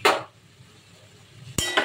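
Vegetarian vegetable ghonto being stirred in a pan with a utensil after garam masala and coriander leaves go in, giving two short bursts of metal scraping and clinking, one at the start and one near the end, with a quiet pause between.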